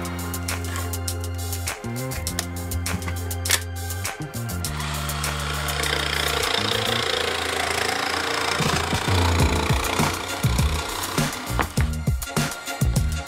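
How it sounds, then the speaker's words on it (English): A jigsaw fitted with Bosch Expert blades cuts through a board, its motor droning loudly with a rapid reciprocating buzz and rattling vibration, pausing briefly and restarting, then ending in scattered knocks. "use some of these Bosch Expert jigsaw blades to cut it out"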